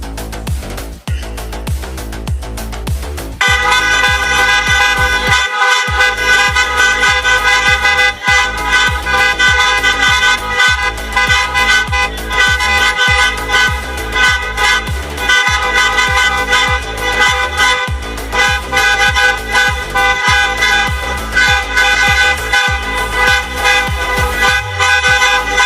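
A huge ensemble of Ford Everest SUVs sounds their horns at once for a car-horn world record attempt, building from scattered honks into a massive, sustained, loud blaring chord that holds steady with only a brief dip.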